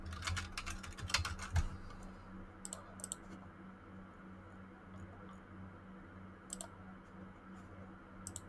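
A computer keyboard clatters in a quick flurry of keystrokes, then gives a few sparse, isolated taps over a low background hum, faint and close.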